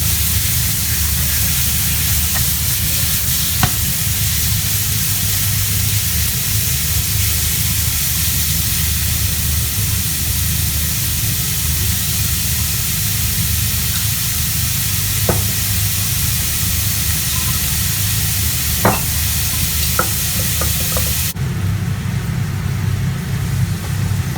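Minced pork stir-fries in a pan for wild garlic leaves with pork, making a loud, steady sizzle and hiss close up. Occasional clinks of scraping and stirring cut through, and no one speaks.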